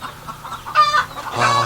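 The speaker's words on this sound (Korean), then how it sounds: "이게 청리토종 닭이거든요." Cheongri native Korean chickens on a farm flock of about a thousand birds, loud close clucks and short drawn-out calls from several hens, overlapping in quick succession.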